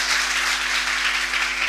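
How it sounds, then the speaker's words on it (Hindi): Steady applause from an audience at a school celebration of Vikram Sarabhai's birth anniversary in Ujjain, dense and continuous clapping, fairly loud throughout with no voices over it. "तालियों की गड़गड़ाहट से अपनी अपनी उपस्थिति आपको यहाँ दर्ज करानी है।"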